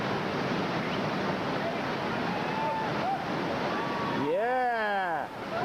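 Whitewater rapids on the Youghiogheny River roar as a constant loud rush of water with wind buffeting the microphone, while a voice speaks briefly near the end.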